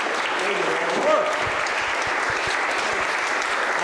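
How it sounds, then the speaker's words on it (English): A community centre audience at a congressional candidates forum applauds the LPCA co-presidents with steady, dense clapping from a moderate crowd, while voices murmur faintly underneath. "A round of applause, please."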